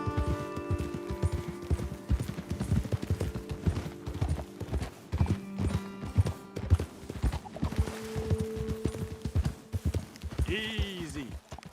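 Video game horses clip-clopping at a steady pace with snorts and a whinny near the end, hooves repeating under ambient sound.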